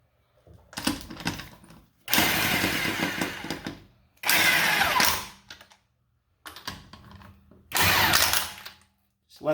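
Wheel lug nuts on a Mazda CX9 are tightened in a star pattern, with several bursts of close mechanical whirring and ratcheting separated by short pauses of silence.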